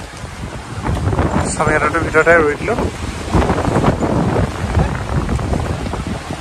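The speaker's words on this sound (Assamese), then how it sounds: "খুব জোৰত বতাহ আৰু বৰষুণ দুইটা মাৰিছে" Strong wind and rain outdoors in Europe roar and buffet the microphone in a constant rough rush, while a person talks over it throughout.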